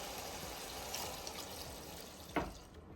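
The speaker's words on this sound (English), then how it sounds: "I went ahead and added some hot water. And we're going to pour it right into." Hot water poured from the marinating bowl into a cooking pot for curry turkey drumsticks, a soft continuous trickle followed by a brief louder splash near the end.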